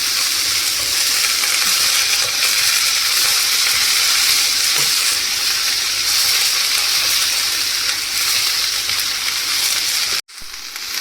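Ivy gourd pieces fry in a pan with a loud, continuous close sizzle and faint occasional stirring, ending in a sudden brief cut.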